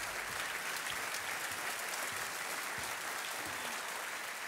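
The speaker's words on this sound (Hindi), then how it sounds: "तालियां बजती रहें इनके लिए" Studio audience applauding on a Kaun Banega Crorepati quiz show set, a dense, steady wash of clapping that fills the whole stretch at even loudness with no voices breaking through.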